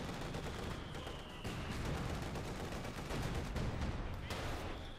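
An IS-2 tank fires its main gun and machine gun in a video game battle, with dense, loud, continuous gunfire and explosions overlapping in a constant barrage.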